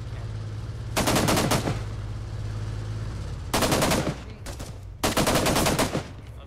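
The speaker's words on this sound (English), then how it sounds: "They're just shooting." Automatic gunfire in the military video game ArmA 3: three loud, rapid bursts of several rounds each plus a brief short burst, over a constant low engine-like drone.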